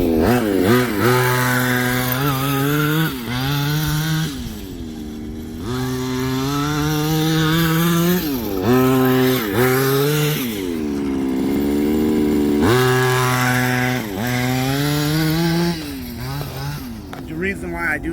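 A Redcat Rampage XT RC truck with a two-stroke gas engine buzzes loudly and continuously, its pitch rising and falling repeatedly as the throttle is blipped and released, heard close up.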